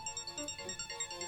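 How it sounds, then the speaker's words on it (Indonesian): Telephone ringtone with a repeating electronic chirping pattern, pulsing roughly every fifth of a second, fairly faint and heard alone in an Indonesian household scene. "Ada telepon, Bang, dari Haji Makmun."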